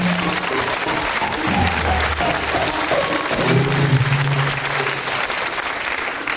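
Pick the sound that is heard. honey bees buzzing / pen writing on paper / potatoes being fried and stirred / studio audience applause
studio audience applause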